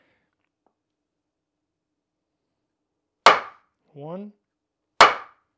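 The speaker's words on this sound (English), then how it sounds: "Again, came out in two whacks, and I'm not even hitting that hard." An inertia hammer tool is whacked twice to pull apart an ammunition cartridge, giving two sharp, loud, isolated impacts about two seconds apart in otherwise quiet surroundings, with a spoken word between them.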